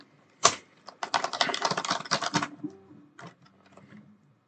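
Rapid keystrokes clatter on a computer keyboard during a live build of a DIY games console, a dense burst of close, crisp clicks lasting about two seconds, preceded by a single tap and followed by a brief, quieter tone.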